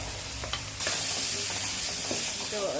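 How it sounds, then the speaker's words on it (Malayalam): Chopped onion and garlic sauté in a pan for a chickpea curry, a close, steady sizzle with scraping stirs of a spoon and a brief louder swell partway through. "വെളുത്തുള്ളി അരിഞ്ഞത് ഇട്ട് എല്ലാം കൂടി ചേർത്തൊന്ന് വഴറ്റാം"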